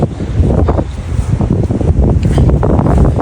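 Strong wind buffets the microphone with loud, low rumbling gusts and thumps throughout, with no clear voices.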